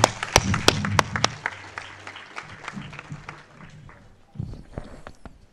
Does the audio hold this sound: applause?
yes